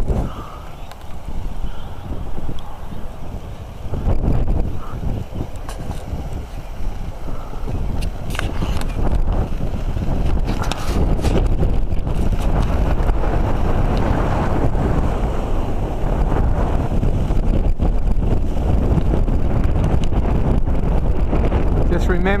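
Strong outdoor wind while an arch kite train launches itself, roaring and buffeting the microphone in a loud, steady rush that swells and stays heavy throughout.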